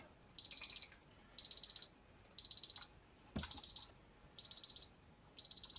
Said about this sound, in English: that's just an alarm on this, it's set to go off at 100 degrees.